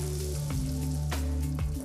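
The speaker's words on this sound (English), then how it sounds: "It's almost stopped sizzling" Food fries in hot oil in a restaurant kitchen, with a continuous close sizzle, scattered crackles and pops, and an underlying hum, with no talking.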